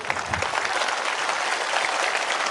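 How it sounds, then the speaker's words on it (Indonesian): Audience applause during a religious lecture: a crowd clapping steadily and densely, loud and uniform with no pauses, filling the space. "ayo tepuk tangan dulu"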